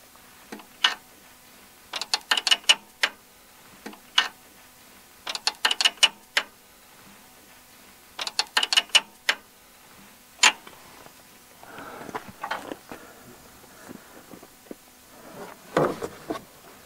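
A ratchet wrench turns an adjustment nut to raise a machine carriage during guide roller installation, giving bursts of sharp clicking in quick runs separated by pauses, then a few softer clanks.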